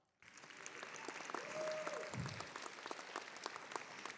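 An audience at a youth academy graduation ceremony claps for a graduate called forward, a quiet, distant patter of applause that starts abruptly and continues steadily, with a brief voice over the loudspeaker partway through.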